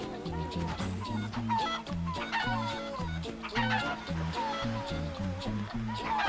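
Chickens cluck steadily in the video game Crash Twinsanity, a busy, rhythmic chorus of short repeated calls, close and moderately loud, with background music-like tones underneath.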